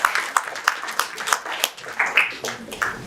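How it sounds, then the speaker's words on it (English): A small audience at a project close-out event claps in a loose, rhythmic pattern, distinct sharp claps landing roughly every third of a second, fairly close and moderately loud, with no voices over it. "if you want to clap, please clap for them."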